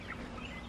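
Meat chickens on a homestead cluck and fuss close by in a short, steady burst, with no voices.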